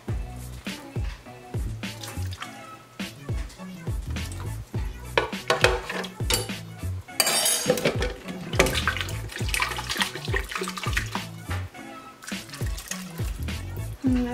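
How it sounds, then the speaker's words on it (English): Red chile is stirred into meat broth in a cooking pot, producing uneven sloshing, liquid swirling and soft clanks of a spoon against the pot, fairly loud and close. "So let's just mix our chile."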